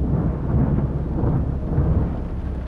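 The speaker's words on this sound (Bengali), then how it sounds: "তখন আবার হালকা হালকা বৃষ্টি হতে শুরু করে।" Steady storm ambience as light rain begins on a dark, empty rural road between farm fields, a dense low rumbling wash of rain and distant thunder holding an even, continuous level with no pauses.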